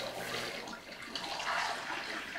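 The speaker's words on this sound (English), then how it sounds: "I'm going to pour in the wort." Homebrewed beer wort pours through a sanitized funnel into a fermenter with a steady, close-up rushing and splashing of liquid.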